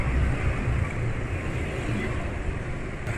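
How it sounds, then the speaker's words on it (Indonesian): A two-stroke motorcycle engine running on Euro 1 2T two-stroke oil, a steady close low rumble with broadband noise that holds evenly throughout with no talk. "Terus sama suara mesin tentu ya, suara mesin asak-asak atau enggak, dan ini enggak terlalu asak-asak."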